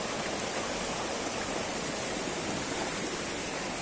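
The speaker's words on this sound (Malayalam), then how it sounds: "അവിടെ നിന്നൊക്കെയാണ് വെള്ളച്ചാട്ടം വരുന്നത്" The Aanachaadi waterfall in Kerala gives a steady, dense rushing roar of falling water. It holds unbroken and evenly loud throughout, with no voices over it.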